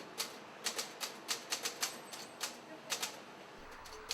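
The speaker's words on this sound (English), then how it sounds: "Almost every day, he pecks out a one-page newsletter on an old typewriter." An old manual typewriter out on a San Francisco street, its keys pecking in irregular sharp clacks, about a dozen quick strikes in short bursts, faint and distant against quiet outdoor ambience.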